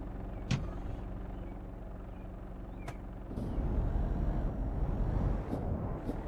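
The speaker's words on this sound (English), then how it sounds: "Did I put the handbrake on?" In a trucking video game, a truck's handbrake releases short, sharp air hisses, then a broad, rumbling hiss and engine noise build up and continue steadily.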